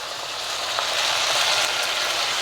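Appam batter sizzles steadily on a hot pan, a close, continuous frying hiss with faint scraping ticks and no pauses.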